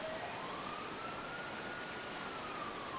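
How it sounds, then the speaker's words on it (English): A distant siren wails slowly up and down, faint and steady behind a constant broad hiss. "Do you hear the siren, or is it just an ambient siren for me?"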